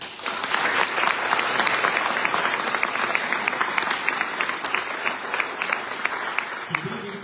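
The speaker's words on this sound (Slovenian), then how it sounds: "En aplavz." Loud, sustained applause from an audience at an evening public talk in Šentilj, Slovenia, a dense wash of clapping lasting several seconds before it tapers near the end.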